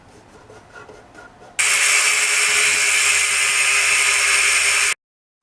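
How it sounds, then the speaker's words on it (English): A power drill bores into fiberglass cowl brackets during a 1994 Yamaha FZR600 restoration. After quiet shop noise, one loud continuous drilling burst holds for about three seconds and then cuts off abruptly, close up. "Drill."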